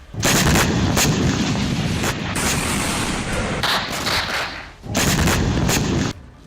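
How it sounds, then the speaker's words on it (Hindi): Heavy blasts strike the Ukrainian city of Dnipro in a series, loud booming detonations in several bursts separated by brief lulls, with rumbling noise between them. "यूक्रेन की धरती पर सिलसिलेवार धमाके होने लगे"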